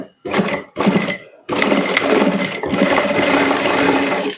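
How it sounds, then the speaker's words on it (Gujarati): A sewing machine stitches a blouse in short close bursts: two brief runs of needle clatter, then a longer continuous stretch of steady stitching with no voices. "હવે આપણે સિલાઈ લગાવી દઈશું."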